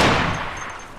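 A single sharp gunshot from the survival video game DayZ cracks loudly and then decays over a short tail.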